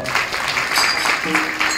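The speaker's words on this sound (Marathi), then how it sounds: "यांच्यासाठी एक वेळ टाळ्या वाजवा." Audience applause at a kirtan, a devotional singing gathering: a steady wash of many hands clapping together at close range, sustained and even throughout with no pauses.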